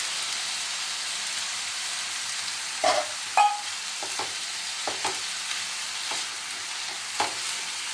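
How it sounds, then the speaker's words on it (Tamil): Tomato and turkey berries fry in oil in a pan with a continuous low sizzle, broken by several sharp scrapes and taps of a spatula as the pieces are stirred. "தக்காளியை போட்டு கொஞ்சம் நேரம் வதக்கிட்டு அந்த சுண்டைக்காயை போட்டுடலாம்."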